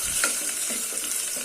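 Green chillies and curry leaves fry in hot oil in a pan after onions, crackling steadily with a continuous close sizzle, a spoon stirring through it.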